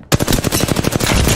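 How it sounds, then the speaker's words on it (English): Gunfire aimed at the player in Apex Legends, a loud, close, fast automatic burst of evenly spaced shots rattling without pause through the whole stretch. "Being shot at."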